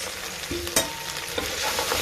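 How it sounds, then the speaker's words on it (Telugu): Okra and green chillies fry in hot oil in a cooker, giving a steady close sizzle with a stirring scrape at the start and a few sharper crackles through the two seconds. "ఇప్పుడు ఆయిల్ కాగింది, బెండకాయలు వేసుకున్నాను. బెండకాయలు పచ్చిమిరపకాయలు వేసుకున్నాను."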